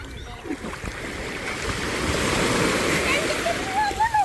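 Steady rushing wash of rough sea waves, broad and continuous, with surf noise swelling slightly toward the end and faint wind over it.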